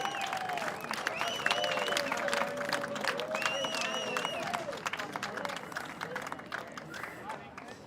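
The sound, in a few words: crowd cheering and clapping on Belmont Pier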